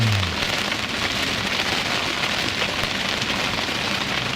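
Heavy rain pours steadily during a nearby thunderstorm at Old Bar, a dense, even hiss of drops on surfaces with a low rumble fading at the start.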